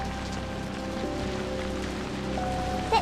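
Light rain falls steadily, a soft, even patter of drops on surfaces that hisses quietly and without break throughout.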